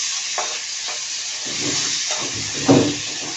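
Fish sizzles in a hot pan just after being flipped, a steady frying hiss broken by a few soft scrapes and one louder clatter of the turn.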